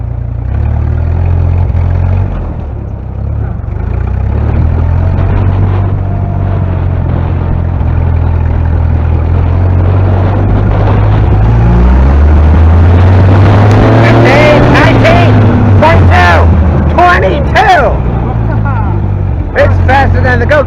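A vintage Jeep in first gear low range crawls along with a loud, steady low engine drone that rises and falls, while people talk over it and brief shouts break in near the end.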